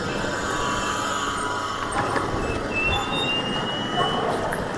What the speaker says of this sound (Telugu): ఇదన్నమాట ట్రైన్ వస్తుంది మాది.